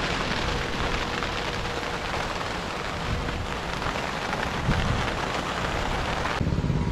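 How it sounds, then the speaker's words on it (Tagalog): A sudden downpour on a farm drums loudly and evenly on nearby surfaces, a close, dense rain roar that continues throughout, with no talking. "Biglang umulan."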